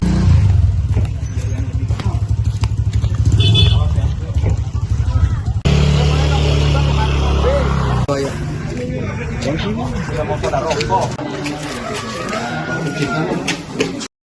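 A motorcycle passes along a road in a Tegal village hit by land movement, its engine rising and fading amid steady crowd chatter and nearby voices.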